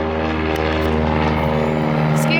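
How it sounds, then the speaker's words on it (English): A low-flying plane passes directly overhead and its engine drones loudly and steadily throughout. The roar is close and sustained, with a faint voice beneath it. "there's a plane coming right over us"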